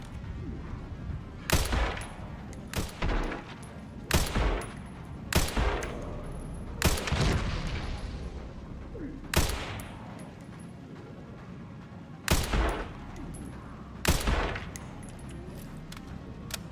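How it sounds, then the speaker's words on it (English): Sharp, isolated gunshots ring out one by one in Resident Evil Requiem, about a dozen spaced irregularly over quiet ambient game sound, each crack loud and close with a short tail. "we're gonna start going wild on the shots"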